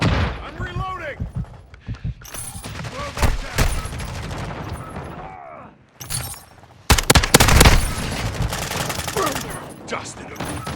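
Rapid bursts of full-auto shotgun fire in a video game, loud blasts in quick strings broken by short pauses, with a voice talking in between shots.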